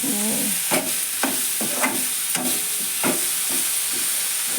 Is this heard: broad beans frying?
yes